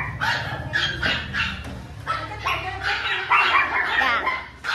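Dogs bark in short repeated bursts in the waiting area of a veterinary clinic in Rach Gia, loud and close, with a busy indoor background.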